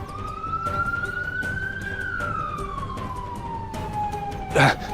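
An ambulance siren wails in a long, slow rise and fall, fairly close, with a brief louder thump near the end.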